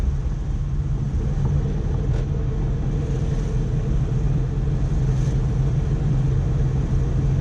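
A car engine runs smoothly after an electric fuel pump install, holding a steady, even low rumble with no sputtering, close and constant throughout.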